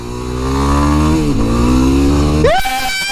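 A Yamaha WR250R motorcycle engine drones steadily up close while riding, holding a sustained pitch before a sharp rev climbs at the end, with no talk over it.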